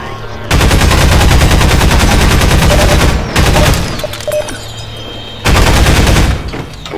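Rapid bursts of heavy automatic gunfire from a Strider in the video game Half-Life 2, loud and close, with long sustained volleys separated by brief pauses.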